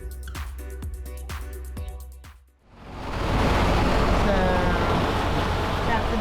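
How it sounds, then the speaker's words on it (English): A sailboat motoring across Pacific Mexico waters toward a beach anchorage: low engine thrum with rhythmic pulses, then a loud rushing wash of waves and wind on the microphone, close and continuous. "Fly here is motoring us over to Playa Mora, just on the other side here"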